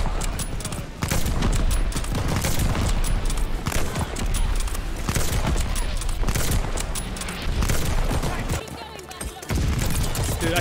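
Rapid bursts of gunfire from a modded gun in a shooter video game, loud and nearly continuous, with a brief pause near the end before the shots resume.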